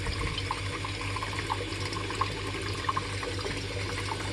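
A Hayward Pool Vac Ultra pool cleaner runs at normal speed underwater, giving a steady watery churning wash with faint intermittent clicks, continuous and moderately quiet throughout.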